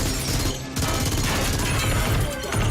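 Automatic weapons fire in the TV show Person of Interest, a loud, continuous burst of rapid shots with no breaks.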